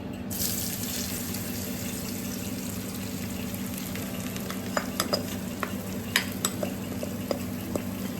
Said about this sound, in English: we simply use the leftover oil to fry our aubergine as well